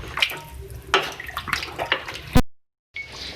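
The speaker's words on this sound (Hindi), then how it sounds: "अब इसको मिक्स करें और गलने के लिए रखें।" Beef and vegetable stew with added water is stirred in a pot, giving close, wet sloshing and splashing in several uneven strokes. The stirring ends abruptly in a brief silence before it picks up again faintly.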